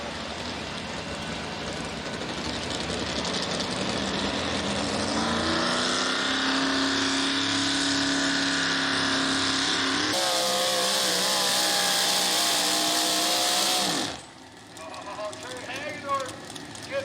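A pulling truck on a Lucas Oil Pro Pulling League track roars in a long, sustained, loud run, its engine pitch climbing steadily before cutting off abruptly, with an announcer talking over it and crowd noise afterward.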